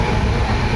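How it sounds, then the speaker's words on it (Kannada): A dense, steady roar of a moving passenger train running from Yeswantpur to Goa, heard from inside the coach, with continuous low rumble and rattling and no clear voices. "ಇವಾಗ ಟ್ರೈನ್ ಒಳಗಡೆ ಕುಂತಿದ್ದೀವಿ."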